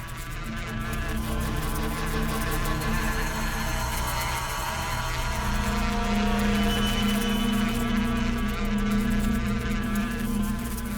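Bees buzzing around a beehive, a dense continuous drone of many wings with steady hum and shifting pitch, fairly close and loud throughout.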